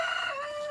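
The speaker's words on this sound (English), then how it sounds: "hey Hootman, I'm walking past the rooster run here, the bachelor pad" A rooster in a rooster run lets out the tail of a crow, a loud, close, drawn-out falling call that fades out within a second.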